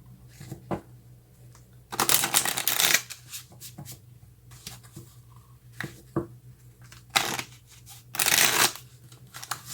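Tarot cards are riffled and shuffled in several short, crisp bursts, separated by quieter handling sounds and soft taps.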